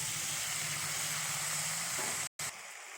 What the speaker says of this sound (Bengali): এবার মশলাটা কষানো হয়ে গেছে, এর মধ্যে শসাটা ঢেলে দেবে।